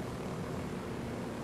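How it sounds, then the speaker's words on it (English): A helicopter in the video game Ghost Recon Wildlands gives off a steady, loud rotor and engine drone that holds even throughout, with no voices. "Kelson, I'm no longer in control of this helicopter."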